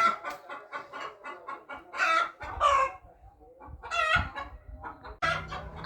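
A hen clucks repeatedly in short, close bursts, with a few louder squawks mixed in and a bit of background rustling.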